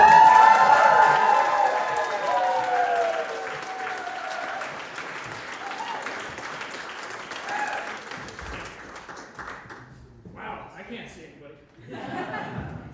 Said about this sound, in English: Lose your minds. Clap your hands